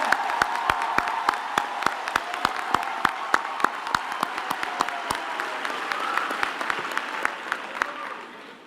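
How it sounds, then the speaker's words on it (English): An audience at a university graduation ceremony claps warmly, with steady applause and a few sharp, distinct claps standing out near the microphone, gradually fading at the end. "we should give a warm hand and a huge hand of applause for each of everyone that have walked past the stage"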